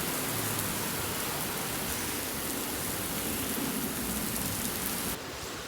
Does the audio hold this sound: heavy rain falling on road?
yes